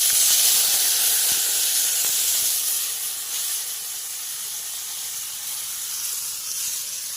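Grated cucumber sizzles and hisses in hot oil already holding cumin, bay leaf and dried chilli. A loud, steady spitting sizzle fills the pan and eases slightly after a few seconds, with no talking.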